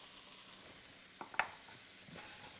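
Garlic hits a hot pan of Hungarian goulash base with spices, giving a brief crackling sizzle and a faint stir, fairly quiet and close, without talk.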